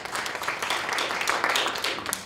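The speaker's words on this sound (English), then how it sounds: "You can clap for that." Audience applause at a keynote address by a prosecutor, a dense spread of hand claps filling a hall, steady and moderately loud for a couple of seconds with no voice over it.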